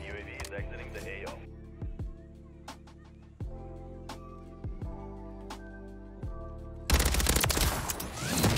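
Gunfire from an FJX Horus in a video game: sharp shots crack out over a game soundtrack, building into a loud, sustained burst of rapid fire near the end.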